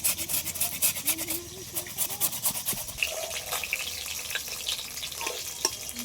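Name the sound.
grating taro root with a grater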